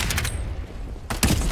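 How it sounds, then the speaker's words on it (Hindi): Bar 95 gun in the game Farlight 84 firing short bursts of rapid shots, one burst at the start and another after a pause, fairly close and sharp. "अभी ये गन कौन सी है? बार 95 है।"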